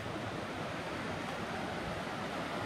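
A river runs right beside an old water mill with its water wheel still in place, heard as a steady, broadband rush of flowing water that continues unbroken, mixed with some wind, and with no voices.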